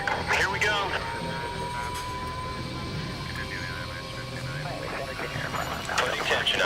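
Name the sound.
aircraft taking off, from the video game Battlefield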